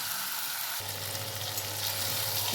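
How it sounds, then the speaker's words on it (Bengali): Fried eggs and potatoes sautéed with masala in hot oil, a steady close sizzle that thickens after a moment, continuous and without voices. "ভেজে রাখা ডিম আর আলু একসঙ্গে এবারে মশলাটা দিয়ে কষবো"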